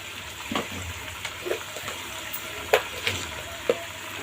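Ground whole-spice paste of cardamom, cinnamon and cloves sautéing in a pan for katla fish kalia, a low wet sizzle with a few soft stirring scrapes and dabs, close, no talking.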